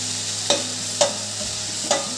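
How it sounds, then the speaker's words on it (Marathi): Beetroot sautéed in ghee for carrot halwa, a steady sizzle under three evenly spaced scraping stirs of a spoon in the pan, close and alone. "बीट थोडे परतवून घेऊ आपण"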